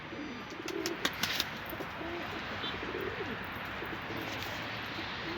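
Soft cooing of a pigeon or dove over a steady outdoor hiss, with a few sharp clicks near the start.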